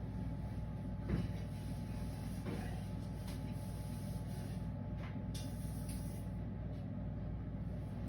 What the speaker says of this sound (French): le turbo quand il est vide pour vraiment sécher le bol